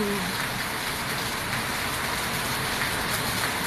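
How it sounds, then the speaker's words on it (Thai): Steady rain falling outdoors among trees, an even, constant hiss of drops with no voices. "ธรรมชาติฝนตก"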